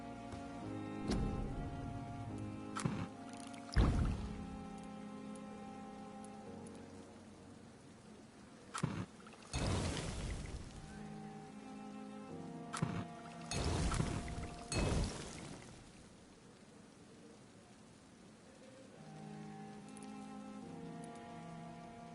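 Water pours over a dying flower in the video game Vampyr, coming in several splashy bursts of varying length over a steady bed of game music with no talking.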